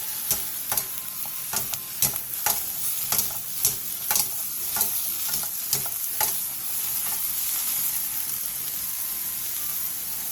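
Two diagonally sliced eggplants stir-fry in oil in a pan over high heat, a steady loud sizzle broken by regular scraping stirs of the spatula, with no voices.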